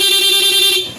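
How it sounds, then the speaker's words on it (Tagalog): Stock horn on a Yamaha Sniper 155 motorcycle, one loud, close, steady honk held for most of a second before cutting off. "yung May stock horn siya. Subukan natin"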